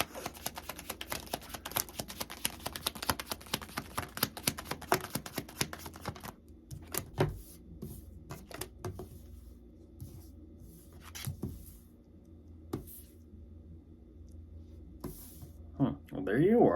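Tarot cards are shuffled and handled for a reading, a dense run of quick riffling clicks and taps at first, then sparser card snaps and placements, close and quiet, with a voice speaking over them.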